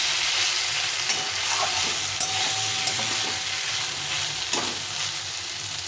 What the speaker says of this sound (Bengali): আলুটাকে কষিয়ে নিয়েছি সুন্দরভাবে মশলাটাকে আলুর সঙ্গে কষিয়ে নিয়েছি